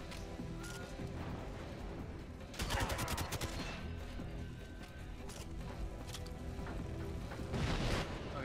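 Gunfire in GoldenEye 007 on the Wii comes as bursts of rapid shots and crashing impacts over a dense game-noise bed, sharpest around the third and eighth seconds, fairly quiet overall.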